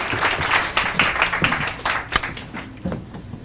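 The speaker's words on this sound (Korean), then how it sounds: "박수 주세요." Audience applause at a Korean appraiser exam results briefing, a dense wash of many hands clapping at steady loudness, tapering slightly toward the end.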